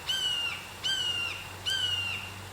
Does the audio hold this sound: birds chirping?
yes